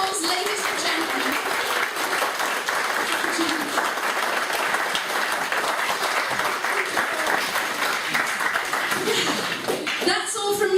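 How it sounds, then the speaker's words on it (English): An audience at a comedy show applauds steadily for about ten seconds, with a dense crowd of clapping hands and some chatter mixed in. "Give them a round of applause, ladies and gentlemen."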